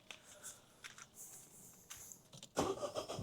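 A Citroen DS4 with an electrical fault gives a few faint clicks and rattles, then its engine catches and starts with a loud, rough burst of running noise close by.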